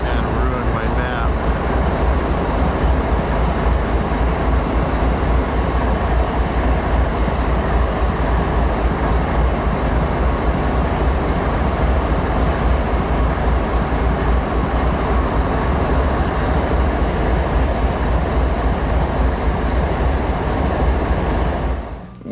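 A freight train rumbles steadily past at close range for the whole stretch, a dense continuous roar of rolling wheels and rail noise before fading at the very end.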